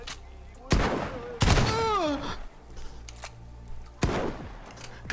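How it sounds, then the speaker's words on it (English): Covering gunfire in DayZ, the survival game, during a night bandit attack: a few loud, sharp shots spaced apart, each with a long ringing tail, between quieter stretches, with a groaning voice in between. "I'm gonna do covering fire!"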